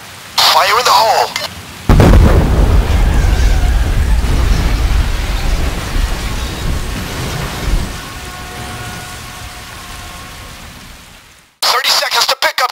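A demolition charge detonates in the video game Payday 2: a loud, deep rumbling blast that roars and slowly decays over about ten seconds, with brief game voices before and after it.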